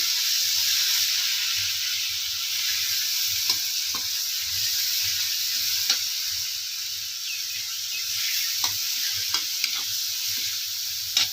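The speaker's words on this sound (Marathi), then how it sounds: "त्याच्यामध्ये आपण ही चटणी टाकणार आहे चांगली भाजून घ्यायची" Green chili chutney with cumin and turmeric roasting in a pan for Maharashtrian pithla: a steady, close frying sizzle with faint scrapes of stirring throughout.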